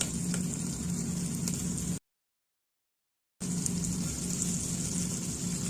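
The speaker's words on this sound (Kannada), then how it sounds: "ಈಗ ಸ್ವಲ್ಪ ಫ್ರೈ ಆಗಲಿ, ಒಂದು 5 ನಿಮಿಷ ಫ್ರೈ ಆಗಲಿ" An onion-tomato masala with turmeric fries in a pan for tomato bath, giving a soft, steady sizzle that drops into complete silence partway through before resuming.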